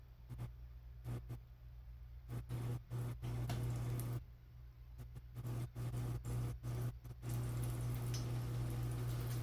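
Breaded mushrooms fry in hot grease in a pan, giving a steady low sizzle and bubbling hiss punctuated by brief sharper crackles, close and moderately quiet throughout.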